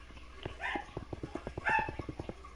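Dogs barking within a Minecraft game on PS4, a quick run of about a dozen sharp, fairly quiet barks in an uneven rhythm, with whiny yips in between.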